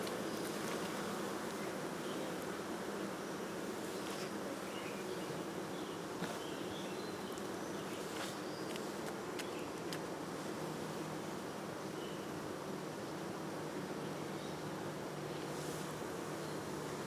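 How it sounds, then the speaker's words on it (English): Dense, continuous buzzing from a crowded honey bee hive box, a steady, full hum that holds at one level throughout. "There's a lot of bees in this box."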